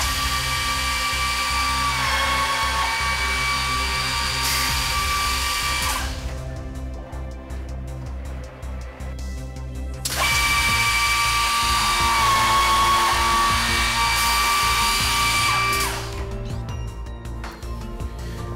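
A GANNOMAT Pro-Line 50 double line drilling machine runs in two long cycles of loud, steady, high-pitched motor whine, each ending in a stretch of rattling mechanical clatter.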